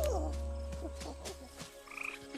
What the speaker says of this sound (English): Golden poison frog.